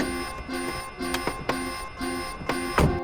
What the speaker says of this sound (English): Wow, that alarm's annoying